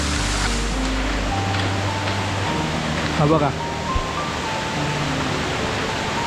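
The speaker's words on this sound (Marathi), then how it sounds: "हा वॉटरफॉल आहे," A hidden waterfall near a village gives a steady broadband rushing roar that fills the scene, with someone speaking briefly over it.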